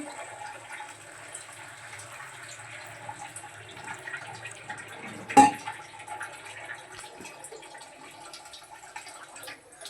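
A little water poured onto onion-tomato spice paste in a pan gives a faint, continuous watery rush, with one short splash midway and quiet kitchen background around it.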